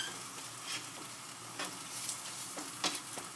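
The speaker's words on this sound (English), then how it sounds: "You know you're approaching the final moments when it starts sizzling like that" Fresh linguini in sauce sizzles in a frying pan, a soft, steady crackle broken by a few brief, sharper pops, with no voices.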